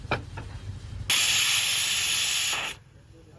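A gas stove burner lit under a pressure cooker releases a loud, steady hiss of gas that starts abruptly, holds for about a second and a half, then cuts off, leaving quieter background noise.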